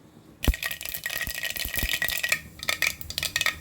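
Mustard seeds spluttering and popping in hot oil while tempering in a home kitchen: a sudden start, then a dense, continuous crackle of sharp little pops close up, with no voices.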